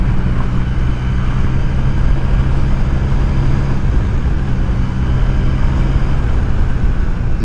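A motorcycle with a 40-year-old engine runs steadily while being ridden, producing a loud, continuous low rumble mixed with wind noise and no pauses.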